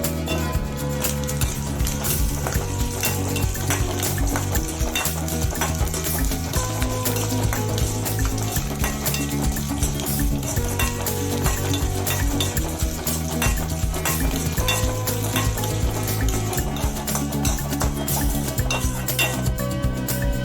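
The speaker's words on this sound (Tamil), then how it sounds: "அப்படியே வரமிளகாயும் சேர்த்து வறுத்துக்கோங்க பூண்டும் சேர்த்திக்கிங்க" Dried red chillies and garlic frying in a pan for a coriander leaf chutney, a continuous close sizzle under busy stirring with frequent clinks and scrapes of a metal spoon against the pan.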